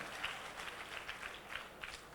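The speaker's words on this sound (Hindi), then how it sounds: "तालियां हो जाओ इसके लिए एक बार जोरदार" Audience applause for a student at a Bihar Development Forum speech event: a dense, steady patter of many hands clapping, fairly distant and soft, with no talking over it.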